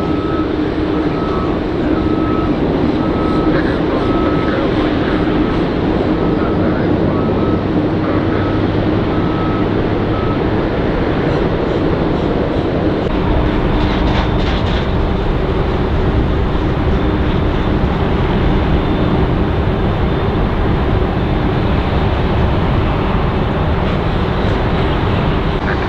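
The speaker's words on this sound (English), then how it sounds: "Our FedEx MD-11 ready to blast out of 19 right" Loud, continuous jet engine roar from a FedEx McDonnell Douglas MD-11 cargo jet taking off from runway 19R at Tampa International Airport, a steady broadband rumble sustained throughout without voices.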